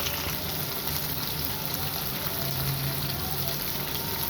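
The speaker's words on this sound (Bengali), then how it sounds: "এখন আমি এটাকে ভালো করে নেড়ে ছেড়ে মিশিয়ে নেব।" Brinjal and potato frying in a pan with salt and turmeric, a steady close sizzle with faint stirring scrapes running continuously, no voices.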